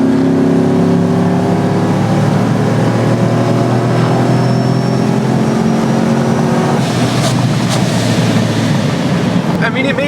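A supercharged pickup truck, the owner's childhood truck, accelerates hard on a secluded road in Mexico, a loud steady engine drone rising in pitch for about seven seconds before the note breaks into rougher, busier roaring near the end.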